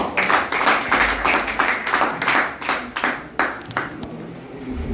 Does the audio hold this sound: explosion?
no